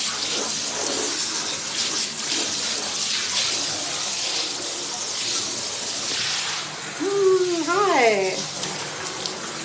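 Water sprays steadily from a handheld shower head as a jacuzzi tub is rinsed down, a close continuous hiss with splashing against the surface, while someone talks briefly over it.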